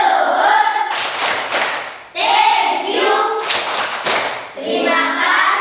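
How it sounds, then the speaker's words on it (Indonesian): A class of schoolchildren clap together in a primary school classroom, giving a patterned thank-you clap in several loud bursts of rhythmic hand claps separated by short pauses, with voices mixed in. "Kita tepuk terima kasih untuk kelompok terakhir."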